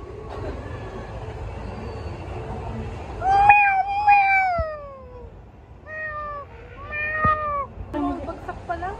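A cat meows several times in a row, clear, close cries coming in short bursts over a steady low rumble of background noise.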